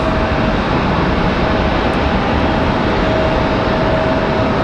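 An airliner arriving from Dallas at Raleigh-Durham International Airport gives a constant, loud engine rumble with a faint thin whine on top, steady and unbroken, with no voices.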